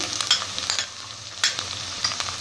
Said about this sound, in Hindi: अब इसमें डालती हूँ अदरक लहसन का पेस्ट अब हम इसको अच्छे से फ्राई कर लेते हैं